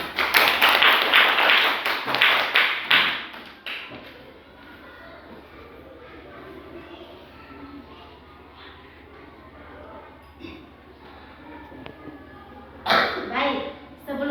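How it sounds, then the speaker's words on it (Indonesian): Classroom of students clapping hands in a burst of rapid claps that fades out after a few seconds, then quieter room noise with scattered taps, and a second short burst of clapping near the end. "Oke, tepuk tangan dulu."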